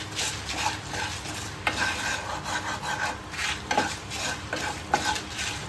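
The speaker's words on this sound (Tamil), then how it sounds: "நல்லா வாசனை வர வச்சு நல்லா வறுத்துக்கோங்க" Spices are dry-roasted with salt and no oil in a pan for Chettinad fish fry, with a continuous close stirring scrape and a soft sizzle and occasional spoon taps on the pan.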